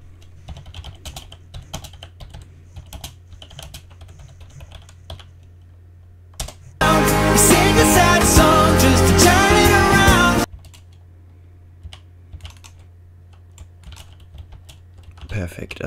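Quick bursts of computer keyboard typing during a Rocket League session, crisp close clicks over a low hum, interrupted by several seconds of loud music before the keystrokes resume.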